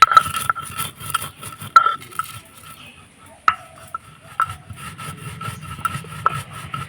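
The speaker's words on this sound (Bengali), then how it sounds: "আর আমি যে মশলাটা নিয়েছি শিলপাটের মধ্যে, তো ঠান্ডা হয়ে গেছে, তো গুঁড়ো করে নেব" Spices being coarsely ground on a stone shil-pata, with rough rubbing and scraping strokes close by, punctuated by sharp clicks and knocks of stone on stone, irregular in rhythm and without speech.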